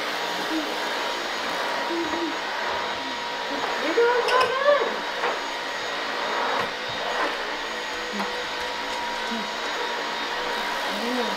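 A vacuum cleaner runs with a steady whining drone through the whole stretch, with brief bumps and clatter midway as it is pushed around.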